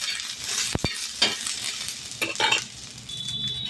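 Onion fries in a little oil in a pan, with a soft steady sizzle broken by a few sharp clinks and scrapes of a stirring spoon against the metal, close and without any talk.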